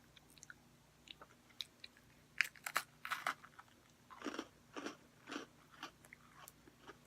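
Close-up bites and chewing of crunchy cherry cola Oreo cookies, a series of sharp crunches and crackles in an irregular rhythm, quiet between bites and with no talking.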